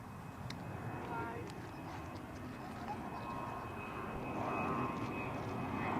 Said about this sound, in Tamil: இதுவும் மாஸ் தான். மாஸ் ஃப்ளைட் தான் போய்கிட்டு இருக்கு.